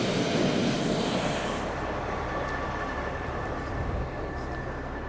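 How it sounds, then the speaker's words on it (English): A small engine of an aircraft auxiliary power unit runs on an airport apron, a steady loud broadband roar with a faint high whine, constant throughout and slightly easing toward the end. "Auxiliary power unit, APU, an onboard means of supplying power to an aircraft, usually a small engine located at the rear of the aircraft."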